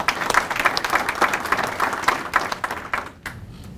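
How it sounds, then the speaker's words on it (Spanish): An audience applauds a man named Carlos at an international seminar on curriculum reform, a dense wash of clapping throughout that thins and fades toward the end. "Un aplauso para él."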